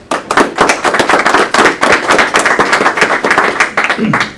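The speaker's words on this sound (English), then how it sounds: "Let's give Brad a round of applause" An audience claps loudly in a dense, steady burst of applause that keeps going without a break.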